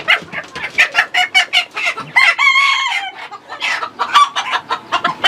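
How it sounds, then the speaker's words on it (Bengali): Police Cap fancy chickens on a rooftop poultry farm cluck loudly and close in quick, choppy bursts, with one drawn-out crowing call rising briefly in the middle. "পুলিশ ক্যাপ খুবই চমৎকার একটি ফেন্সি মুরগি"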